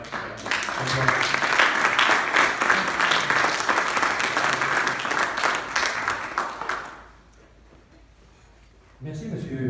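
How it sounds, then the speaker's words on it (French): An audience at a memorial ceremony applauds loudly and steadily for several seconds, the clapping then stopping abruptly into near quiet before a voice resumes. "J'aimerais qu'on vous applaudisse beaucoup de vos efforts."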